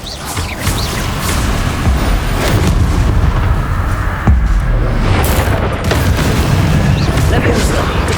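Spell blasts in the game Hogwarts Legacy, a steady run of heavy booms and whooshing bursts with sharp cracks, loud and close, while a voice shouts spell names over them.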